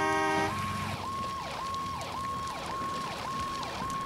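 An ambulance siren in a video game wails in a steady, repeating up-and-down pattern, loud and continuous, with a synthetic game-like quality and faint background rumble.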